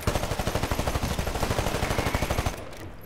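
Shotgun fire in the shooter game Titanfall, delivered as a fast, steady train of close, punchy blasts that runs for about two and a half seconds before stopping.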